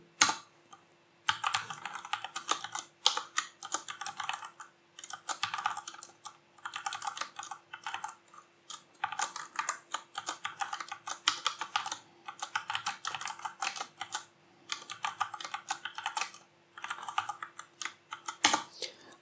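Bursts of keystrokes on a computer keyboard as code is typed, a steady clatter in runs separated by short pauses, close and fairly loud with no talking.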